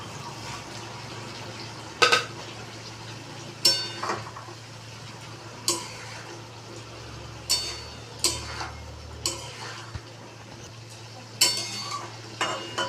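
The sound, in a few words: fried small puti fish stirred in a kadai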